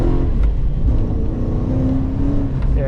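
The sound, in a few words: Ford FG XR8 Falcon V8 engine revving while accelerating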